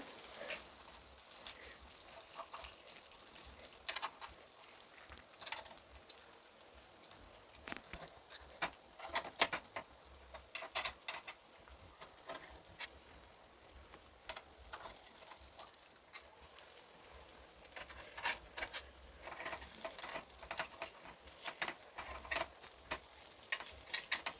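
Fasting-style appe frying in an appe pan as they are flipped, giving a steady close-up sizzle and crackle with scattered sharp clicks and taps throughout, and no talking.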